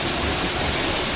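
Steady roar of Deojhar Waterfall in Odisha, a dense broadband rush of falling water that stays loud and unbroken, with no voices.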